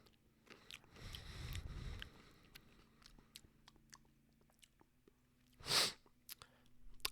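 Someone bites into a fresh blueberry close up, giving a short, low crunchy chewing burst, followed by faint mouth noises and one sharp louder click or smack a few seconds later, with no talking.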